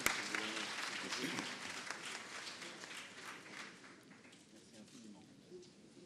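Steady applause from a crowd at a formal ceremony in Abidjan, broad and sustained, gradually fading toward the end with a voice speaking faintly underneath.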